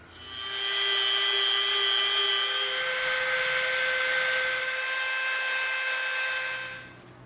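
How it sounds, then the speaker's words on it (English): Dremel rotary tool softening the edge of EVA foam, a steady high-pitched whine that holds loud and close for about six seconds before stopping. "now we're going to come in with our Dremel and we're going to soften the edge around here"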